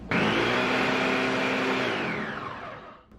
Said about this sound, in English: and then blend it.